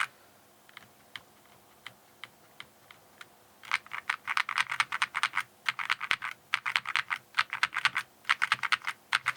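Typing on an Akko V3 Cream Yellow mechanical keyboard: close, crisp clacky keystrokes, sparse and light at first, then a fast, steady burst of dense typing.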